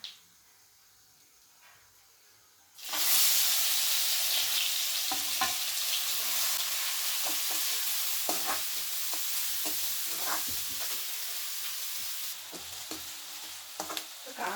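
Onion frying in hot oil with asafoetida, for a traditional wild-vegetable bhaji: after a quiet start, loud steady sizzling bursts in suddenly and holds, with occasional stirring clicks and scrapes throughout.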